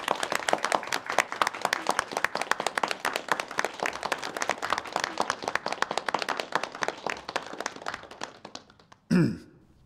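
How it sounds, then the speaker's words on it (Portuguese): Audience applause for an invited speaker, a municipal legal education centre director, at a lecture: dense steady clapping from a crowd close by for about nine seconds, then it stops abruptly, with a short vocal sound at the end. "Palmas."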